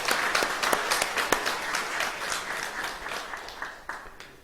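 A church congregation at a Sunday service claps together in warm, sustained applause, many hands close and reverberant, gradually thinning out.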